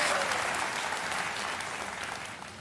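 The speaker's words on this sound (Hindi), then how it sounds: "एक बार फिर तालियों के साथ आपका अभिनंदन करते हैं" Studio audience on the Kaun Banega Crorepati quiz show breaks into sustained applause, a thick wash of clapping that stays even and gently fades toward the end, with no voices on top.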